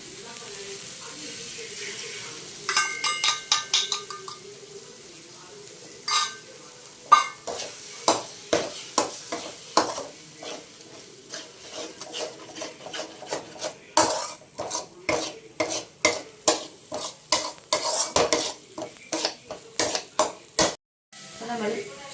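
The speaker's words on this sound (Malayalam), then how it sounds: "നമ്മൾ മസാല ഒക്കെ നന്നായിട്ട് മിക്സ് ചെയ്യാം" A spoon stirs masala in a pan for egg rice, making a long run of quick metallic clinks and scrapes in an uneven rhythm. The sounds are close and fairly loud, with short pauses between bursts.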